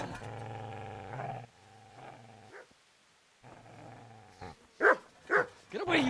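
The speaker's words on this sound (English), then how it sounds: "Get away, you mutt!" A dog in Kingdom Come: Deliverance growls in deep, rumbling bursts, then snarls and barks sharply in quick aggressive snaps as it attacks, close and loud against a quiet background.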